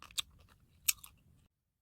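Crunchy bites and chewing of boiled egg white filled with almonds, two sharp crisp crunches close to the mouth with soft chewing between, no talk.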